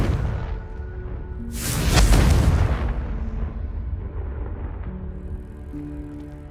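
A Confringo fire spell bursts in the Hogwarts Legacy video game, one loud, close blast that swells quickly and then fades into a lingering rumble over quiet game ambience.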